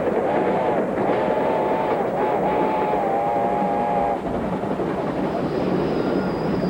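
A train rolls along a railroad with a steady, loud rumbling roar that barely changes. A wavering tonal whine rises briefly over it partway through.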